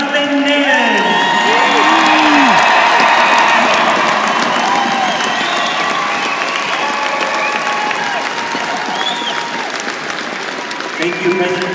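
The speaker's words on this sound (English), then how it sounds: "let's give a huge roar and round of applause for President Jonathan Nez" A large crowd at the Navajo Nation inauguration in Chinle roars and applauds loudly, with cheering, whoops and shouts over continuous clapping that slowly fades, and a voice rising near the end.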